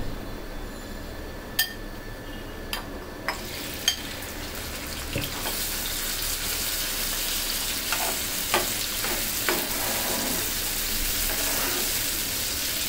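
Small prawns sizzle and spit in hot oil, a steady crackling fry that grows fuller partway through, with a few sharp clinks of utensils and no talking.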